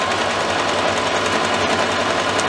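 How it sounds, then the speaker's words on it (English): A sewing machine stitches the long side of kids' apron ties at a quarter-inch seam, a loud, even mechanical whir with a pulsing low rhythm and no speech. "I'm going to sew all the way down the long side of my ties"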